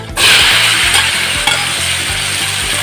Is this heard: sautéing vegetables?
yes